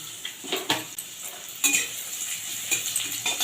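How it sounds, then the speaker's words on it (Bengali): Chopped onion frying in a pan after whole spices and a dried chilli were tempered in oil, producing a continuous hissing sizzle broken by sharp stirring scrapes and clinks of a spatula. "পেঁয়াজটাকে আমি ভেজে নেবো যতক্ষণ না পেঁয়াজের কালারটা চেঞ্জ হচ্ছে।"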